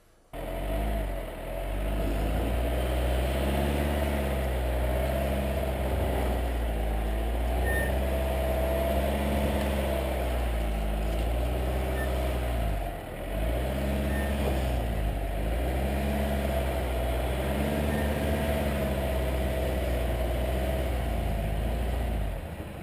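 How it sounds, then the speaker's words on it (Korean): A Jeep Cherokee drives off-road along a muddy trail after light rain, its engine holding a steady loud drone that swells and eases in slow cycles as the tires work for traction. "이런 트랙션이 필요한 부분에서 차가 헛바퀴를 구르지 않으면서 잘 움직여주고 있습니다"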